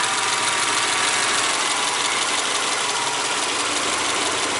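A Subaru engine idling steadily with a fault code for a lean condition while one sensor pin is grounded, a constant dense rumble with light mechanical ticking and vibration, close and unbroken throughout.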